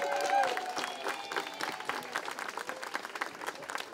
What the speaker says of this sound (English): A round of applause for our 2 recipients tonight